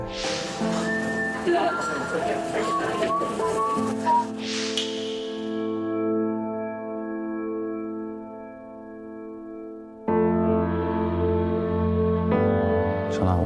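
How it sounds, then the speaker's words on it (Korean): A person whistles a simple tune, with a brief rustle and breathy noise partway through and a pause before the whistling resumes. "휘파람을 불죠."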